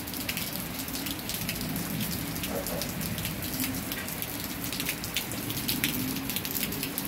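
Steady rain falls heavily, a dense patter of drops hitting surfaces with no pauses, fairly close and constant.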